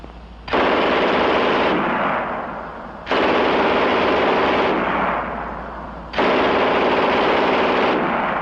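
Loud, very fast MG 42 machine-gun fire in three sustained bursts, the shots blurring into a ripping roar, separated by short gaps.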